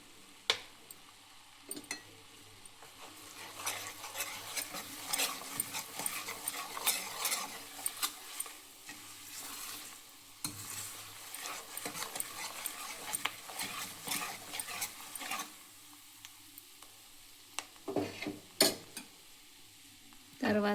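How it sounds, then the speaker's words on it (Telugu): A spoon stirs chili powder into tomato rasam in a pot, giving soft irregular scrapes and clinks of metal against the vessel over a faint sizzle, with a few sharper knocks near the end. "తర్వాత ఇందులో ఒక స్పూను మిరప్పొడి వేసి కలుపుకోవాలి ఫ్రెండ్స్."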